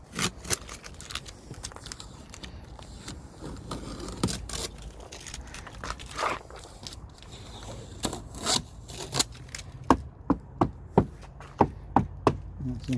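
Masking tape being pulled off a car body moulding, heard as scattered close tearing and crackling with a run of sharp ticks and snaps toward the end, no talking.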